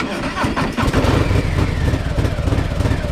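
A Harley-Davidson Breakout motorcycle with a stage 2 exhaust rumbles loud and close with a deep, throaty sound, revving briefly before settling into a heavy idle while people talk over it at a classic bike meet.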